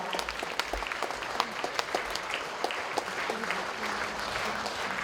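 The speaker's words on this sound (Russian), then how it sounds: "Аплодисменты" A concert audience at a college music event applauds a vocal ensemble with crisp, distinct claps. The clapping is moderately dense and steady, heard clearly and alone.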